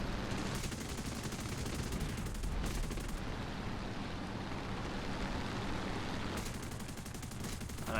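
Ki-61-I otsu fighter guns fire at a Yak-1B in the War Thunder flight game, as a steady, dense rattle of rapid gunfire that carries through the whole stretch over engine drone, with brief dips in intensity.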